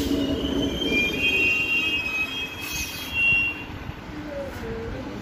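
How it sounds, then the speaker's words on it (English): Passenger train wheels squeal high and piercing as a train pulls away from a station platform, with a steady rolling rumble underneath and no talk. "Sets 34 and 28, leaving platform 1 for a Perth service."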